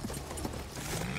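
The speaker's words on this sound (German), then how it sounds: "Wir müssen das Pferd reiten." Quick hoofbeats clatter in a steady galloping rhythm in Battlefield 1, fairly faint, like a horse running at speed.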